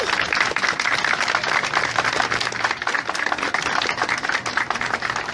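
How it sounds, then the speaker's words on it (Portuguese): Dense, loud applause from an audience welcoming a prince at a public gathering, continuous clapping of many hands filling the space from start to finish, with no talking. "peço muitas palmas para ele"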